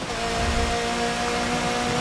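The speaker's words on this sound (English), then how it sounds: "The rain did slow down, I noticed." Rain in a Forza Motorsport 7 race, a dense steady hiss of rainfall blended with a faint engine drone, constant and even across the short stretch with no voices.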